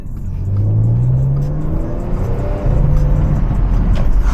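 A 2013 Audi S5 Sportback pulls away, its engine note rising loud and close through the gears, dipping briefly at a shift before climbing again with a steady whirring drone inside the cabin.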